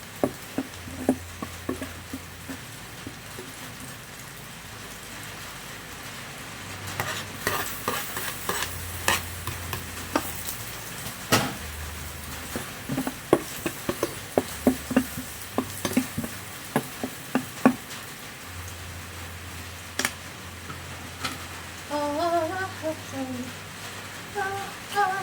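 Eggplant sautéing in a rice cooker, with repeated stirring clinks and scrapes over a light steady sizzle, close and moderately loud, broken by brief pauses.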